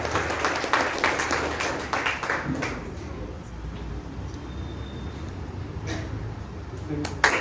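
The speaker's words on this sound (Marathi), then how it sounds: "जोरदार टाळ्या झाल्या पाहिजे" An audience at a book launch applauds, a steady wash of many hands clapping at moderate level, with a few sharper claps standing out at the start and close.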